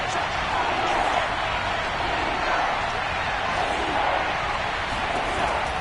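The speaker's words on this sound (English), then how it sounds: "this crowd's going to get even louder" A loud football stadium crowd roars and cheers in a dense, sustained wash of noise that holds steady throughout.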